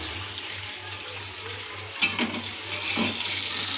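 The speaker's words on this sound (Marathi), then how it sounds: "आपलं एग फ्राय मस्त असं झालेलं आहे." Half-fried egg sizzling in a pan, a steady close hiss of frying with a little clatter and stirring partway through, no talk.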